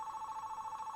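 A phone rings nearby with a steady, unbroken electronic tone that holds evenly for the whole second, moderately quiet with no voices over it.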